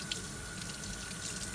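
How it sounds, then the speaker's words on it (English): A glaze brush is rinsed under a running tap into a sink, a steady, close hiss of flowing water with no pauses. "Rinse it again."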